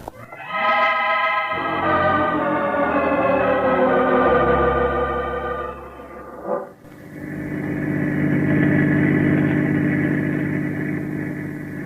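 Car engine sound effect from an old radio crime drama, a loud engine revving and accelerating with rising whine, then a brief shift and steady running hum, alone without talk.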